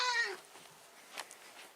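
A feral cat lets out one short, fairly faint meow near the start, then it goes quiet apart from soft rustling.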